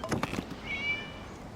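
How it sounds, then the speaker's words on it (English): A cat in Genshin Impact gives a single short, clear meow that rises and holds briefly, right after a moment of speech, then quiet game ambience. "It was just a cat."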